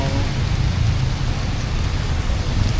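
Heavy rain pours down in Hatyai, a dense, steady hiss of downpour with low rumbling water underneath, loud and close throughout with no clear voices.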